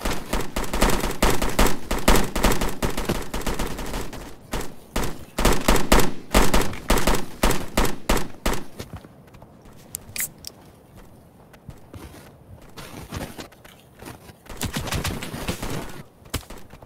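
Squad of Grenadier Guards on patrol firing rifles at enemies up on a hill: dense, loud bursts of gunfire for the first several seconds, then scattered single shots and a pause before another brief flurry.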